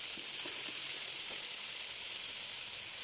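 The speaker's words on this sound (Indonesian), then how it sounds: "bumbu masuk, lalu kita akan tumis sampai dia berbau harum" Blended spice paste with galangal and crushed ginger sautéing in hot oil for Indonesian yellow rice, giving a steady close sizzle and hiss with a few soft stirring taps, no voices.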